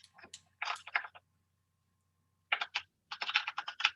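Computer keyboard typing comes in quick clustered keystrokes, a short burst, a pause of more than a second, then faster runs of clicks, close and clear with no talking.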